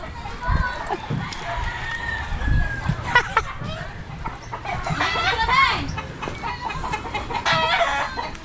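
Chickens cluck and roosters crow nearby, mixed with people talking over them, at a fishing spot at a river mouth.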